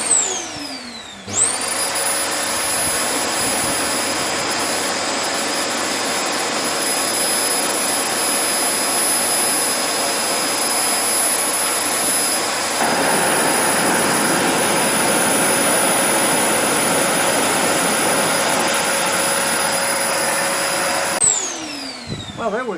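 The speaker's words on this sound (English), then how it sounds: "We'll see if we can get this tennis ball to fly via a vacuum cleaner." A vacuum cleaner blowing air switches on with a rising whine, roars steadily at close range with a shift in pitch partway, then winds down, with rain hissing in the background.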